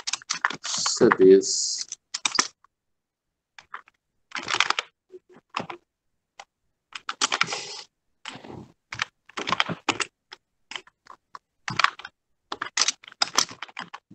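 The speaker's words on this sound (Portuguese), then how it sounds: "vou continuar digitando" Computer keys clatter in quick uneven bursts during a computer-operator class, with pauses between runs and a voice speaking briefly near the start.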